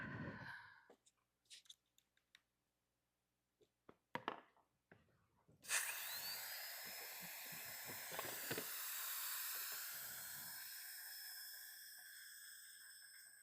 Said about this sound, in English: I'm hearing a leak.